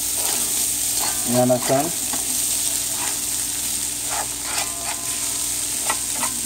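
Quinoa sizzles and fries steadily on a stovetop for Chinese fried rice, with a brief stirring clatter midway; a voice speaks briefly over the constant close hiss.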